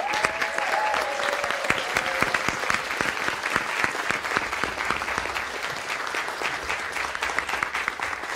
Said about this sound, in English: please stand and congratulate the class of 2026 with another round of applause